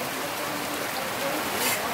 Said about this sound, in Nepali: यति घुमिसकेपछि विशाल पानी पर्यो